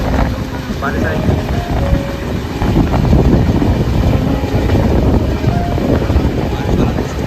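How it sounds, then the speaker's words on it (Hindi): Cold, rainy wind rushes past a moving Indian Railways train on the Hatia to Delhi route: a loud, steady, buffeting roar that fills the whole clip. "बारिश वाला मौसम हो रहा है, ठंडी हवा चल रही है।"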